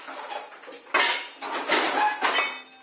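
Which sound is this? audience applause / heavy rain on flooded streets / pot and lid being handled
pot and lid being handled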